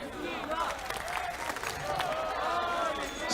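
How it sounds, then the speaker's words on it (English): A large esports crowd at a CS:GO world championship match between Turkey and Argentina keeps up a steady, loud roar of cheering and chanting with applause, rising slightly toward the end while a commentator talks over it. "They need you, crowd. Get behind them. The chants continue."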